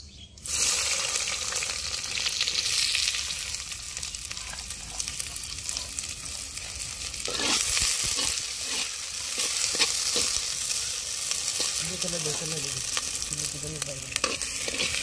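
Onions frying in hot oil in a clay pot for village-style chicken, a steady loud sizzle with occasional stirring scrapes throughout, no talking.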